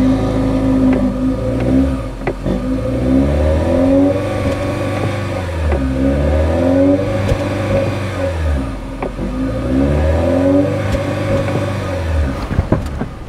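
A 2024 Toyota Grand Highlander Hybrid MAX engine revs repeatedly through the exhaust, rising and falling in four or five loud, close sweeps with no talk.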